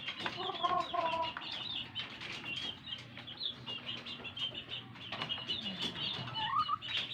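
Backyard breeding hens cluck and murmur in soft, scattered calls, with occasional wing flaps and rustling close by, fairly quiet overall.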